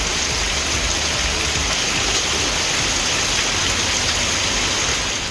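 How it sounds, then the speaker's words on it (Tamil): Heavy summer rain pours down for over an hour around Periyakulam in Theni district, with rainwater flooding along the roads; a dense, steady, loud hiss of rainfall and rushing water fills the scene without pause. "சாலைகளில் மழைநீர் பெருக்கெடுத்து ஓடியது."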